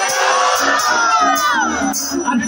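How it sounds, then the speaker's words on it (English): A large crowd at Mayapur chants the kirtan phrase "Nitai Gauranga" together in loud, sustained unison, voices swelling as a dense, close group of many people with cheering tones. "everybody in the whole crowd went, Nitai Gauranga."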